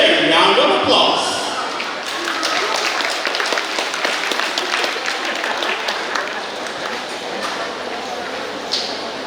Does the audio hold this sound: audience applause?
yes